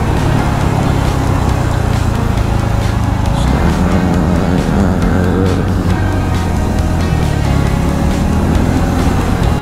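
Heavy Saturday road traffic around a moving motorcycle, a loud continuous engine and road roar with shifting tones from nearby vehicles and wind, no clear voices.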